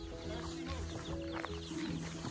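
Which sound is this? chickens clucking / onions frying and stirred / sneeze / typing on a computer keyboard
chickens clucking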